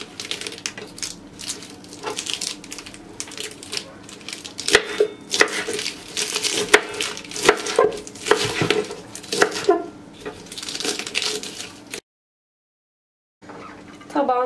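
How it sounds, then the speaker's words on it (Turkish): A knife coarsely chops iceberg lettuce on a board for a salad: rapid, irregular crisp chops close by, running continuously before a brief silent break near the end. "Öncelikle göbekle başlıyorum. Çok ufak doğramayacağım."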